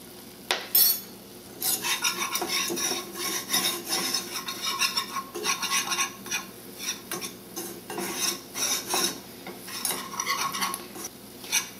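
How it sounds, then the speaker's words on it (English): A vegan flour roux is stirred in a pan, the spoon scraping and rubbing against the metal in continuous rhythmic strokes over a faint sizzle, close and loud, with no talking. "Cook the roux just for a minute, but not until it browns."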